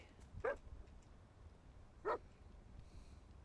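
A dog barks twice in the survival video game Enshrouded, two short separate barks about one and a half seconds apart, faint over a quiet, low ambient background.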